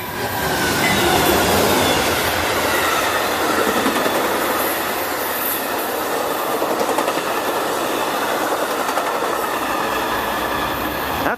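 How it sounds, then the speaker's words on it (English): An Amtrak long-distance passenger train rolls past on a Virginia commuter line, a loud, sustained rumble of wheels with rhythmic clickety-clack and faint squeal, heard close and steady for several seconds. "That's one of those Amtrak long-distance trains"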